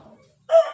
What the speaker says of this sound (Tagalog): di ba may manok ulit isa pang manok